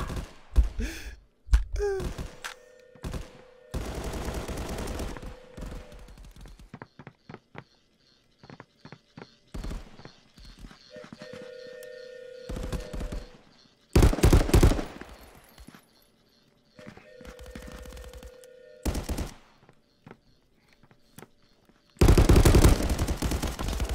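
Bursts of automatic gunfire in the VR shooter game Contractors VR, loud rapid volleys alternating with short pauses, single shots, mechanical clicks and game sounds.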